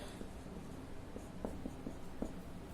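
Chalk or marker strokes on a board during a Class 12 chemistry numericals lesson, a few short scratchy taps and squeaks spaced irregularly over a steady room hiss, fairly faint and close, with no talking.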